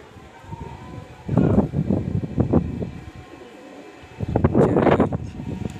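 Low, throaty pigeon coos come in two bursts of repeated pulses, fairly close, with a rustling background and a short quiet gap between them.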